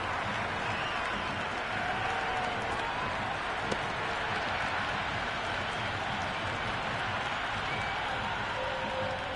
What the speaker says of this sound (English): the crowd have joined the party. It's pretty noisy in the ground